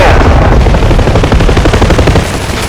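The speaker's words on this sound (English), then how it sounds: "Chalk 2 is receiving fire from that tree line, 50 yards to the west." Loud, dense automatic gunfire in the DCS World combat flight simulator, rapid overlapping bursts and booms filling the whole stretch at close range with no pauses.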